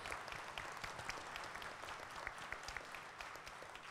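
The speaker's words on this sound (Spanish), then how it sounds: "Con esto le damos un aplauso a los miembros del Presidium por su participación el día de hoy." Seminar audience applauding at the close of a trade-agreement session, a steady, even wash of many hands clapping at moderate distance for the whole stretch, with no voices rising above it.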